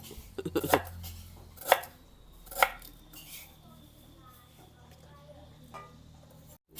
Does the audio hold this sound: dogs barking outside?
no